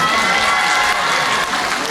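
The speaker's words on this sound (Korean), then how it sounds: "박수 한번 보내주세요" Audience applause fills a high school festival afternoon performance, dense and steady clapping from a crowd that continues for the whole short stretch.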